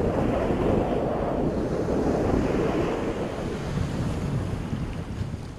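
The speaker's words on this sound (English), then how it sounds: "Some people enjoy the soothing sounds of the waves" Ocean surf washing onto a beach on a fine day, a steady, loud roar of breaking waves with wind buffeting the microphone throughout.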